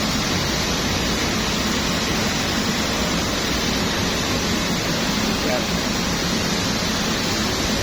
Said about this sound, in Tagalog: Bilis ng buhos na soya o.